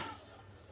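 A metal lid set down over a pot of simmering Bengali fish kalia curry, a brief clink of pot and lid near at hand with low kitchen noise around it.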